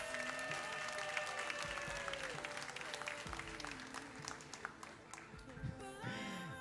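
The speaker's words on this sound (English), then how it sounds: "And now you can applaud for the entire 5 agriculture class." Audience applause at a secondary school graduation ceremony, a sustained wash of clapping from a crowd in a hall, moderately distant, with a voice speaking over it at points.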